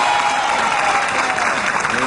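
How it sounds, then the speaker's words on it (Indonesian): A studio audience on an Indonesian television talk show claps to welcome the guests: a steady, loud wash of applause that fills the whole moment, with faint crowd murmur underneath. "Tepuk tangan untuk semuanya."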